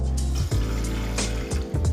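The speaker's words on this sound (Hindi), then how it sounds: "आप इसमें 2 कप पानी डाल लेंगे।" Water pours steadily into a pot on the stove, a close continuous gush broken by a few brief dips in flow.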